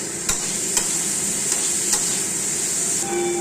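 A spatula stirs eggplant and potato frying in oil with salt and turmeric, steady loud sizzling broken by a few sharp scraping strokes against the pan, no voices.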